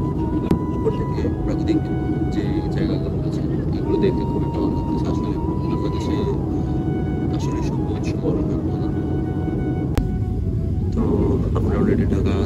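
An airliner's cabin on the Sylhet to Dhaka flight fills with a constant, loud engine rumble during the approach to landing, with a voice speaking over it and occasional chime-like tones.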